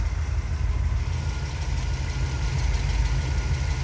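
A Chevy Silverado engine, freshly fitted with a rebuilt 4L60E automatic transmission, idles steadily with a low, even rumble that holds at a constant level from start to finish, with no talk over it.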